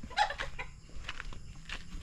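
A chicken clucks several times in short bursts outdoors in a rural Philippine setting, close and fairly clear over light background noise.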